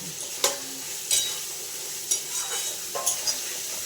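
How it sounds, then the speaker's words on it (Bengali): Spices sautéing in a pan, a constant sizzle punctuated by several sharp scrapes of a stirring utensil at uneven intervals. "এবার মশলাটা ভালো করে কষিয়ে নিই"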